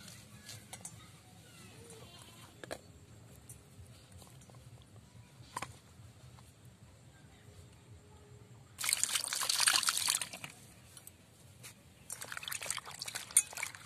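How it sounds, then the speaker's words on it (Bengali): Pointed gourds washed in water: a soft, low trickle runs throughout, then two louder, hissing bursts of splashing and sloshing water, close by. "জল দিয়ে ভালো করে আমি ধুয়ে নিচ্ছি"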